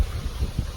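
Strong wind gusts buffeting the microphone at an Indian Cave campsite, low rumbling bursts rising and falling in quick succession, close and loud with no voices.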